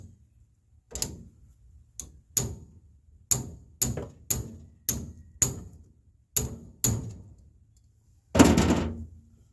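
A hammer strikes a ratchet fitted on a steering wheel nut, sharp metallic whacks landing about a dozen times at uneven intervals, close and loud, with a heavier final blow.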